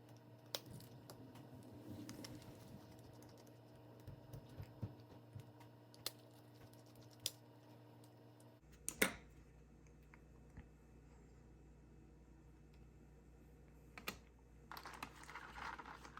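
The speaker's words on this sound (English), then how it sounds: "Then you'll start installing the screws again." Small screws are driven into a PSP Go shell by hand, giving faint, sparse clicks and ticks scattered through a quiet room, with a few sharper taps standing out.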